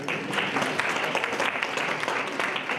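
Audience applause for two panelists at an SMME Opportunity Roadshow panel discussion in Gauteng, steady and dense throughout, with a hint of a voice underneath.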